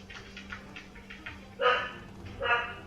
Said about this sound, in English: I think I need to tend to my dogs for a little bit here. Because they're making a lot of ruckus.